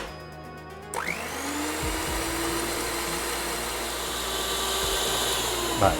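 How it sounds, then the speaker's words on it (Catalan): An electric mixer whirs up to speed and runs steadily, whisking two egg whites into stiff peaks with a continuous buzzing drone and slight wobbles in pitch. "Anem a muntar la clara de l'ou."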